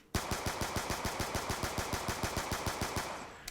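Rapid-fire video game gunshots triggered by a macro controller's right trigger: a burst of about twenty evenly spaced, loud, punchy shots over three seconds, with no talking.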